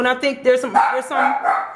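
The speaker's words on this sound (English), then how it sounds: "Excuse my dog in the background." A dog barks repeatedly in the background, short yappy barks in quick succession, mixed in under someone talking close to the mic.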